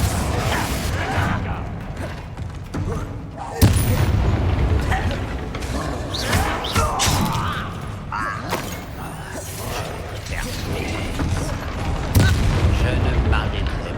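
Confringo blasting spells fired in the video game Hogwarts Legacy, heavy booming explosions that jolt in at intervals amid creaking, rumbling game effects.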